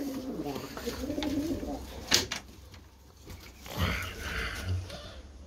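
Tumbler pigeons coo softly in low, throaty bursts, with rustling and a brief knock, close by and fairly quiet.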